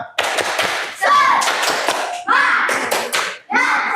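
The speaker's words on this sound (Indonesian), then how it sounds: "Silakan tepuk semangat." A classroom group of students performs a rhythmic spirit clap, bursts of hand claps in a set pattern broken by short pauses, loud and close, with young voices calling out between the claps.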